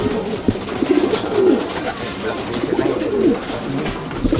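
Racing pigeons in a loft coo softly in a few rolling, throaty calls amid background chatter and ambient noise.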